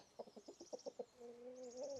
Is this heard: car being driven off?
no